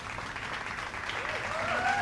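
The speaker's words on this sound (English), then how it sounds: "Please clap." Applause answers a book reviewer's request for a clap, heard as a steady wash of clapping. A faint rising whistle-like tone runs through the latter half.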